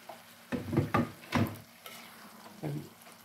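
Squid cooks in a pan with a few distinct knocks and scrapes of a spoon stirring against the metal, over a low background hiss.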